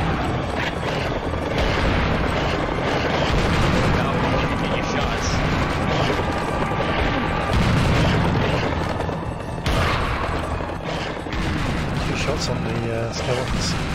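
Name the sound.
double barrel shotgun firing in Serious Sam video game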